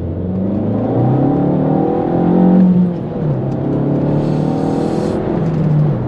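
A car accelerates hard while driving, its engine note rising steadily with a brief lift around the middle before pulling up again, loud and close from inside the cabin with no talking.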